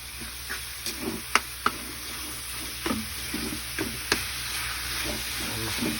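Ground pork is stirred in a pan with a large ladle, a low sizzle broken by sharp metal clinks and scraping strokes at irregular intervals.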